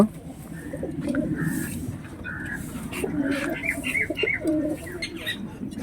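Giribaz and Madras pigeons coo in low, repeated throaty phrases close by, mixed with a few higher chirps and soft background voices.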